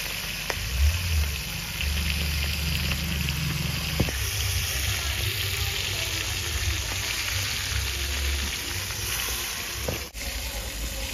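Fish fries in hot oil, giving a steady, dense sizzle that runs unbroken for about eleven seconds, with a few faint clicks and knocks from the pan or utensils. No one speaks.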